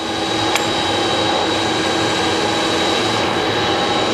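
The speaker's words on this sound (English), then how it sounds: "That's the spindle and the table running." Blanchard 11-20 surface grinder with spindle and table running, a loud steady mechanical drone with a constant whine and one brief knock early on, no voices over it.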